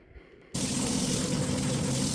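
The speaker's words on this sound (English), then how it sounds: "it's going to start bubbling up really, really well on the left side of the sink" Cleaning solution bubbles and drains in a kitchen sink over a garbage disposal. After a quiet start, a loud, steady rushing and fizzing begins suddenly and carries on.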